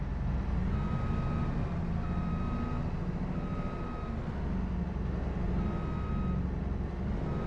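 Combine harvester in a farming video game, engine droning loudly and steadily while a reversing beeper repeats in regular evenly spaced pulses, close and continuous with no talk.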